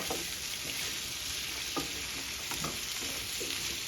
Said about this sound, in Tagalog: Ginigisa ko yung kalabasa.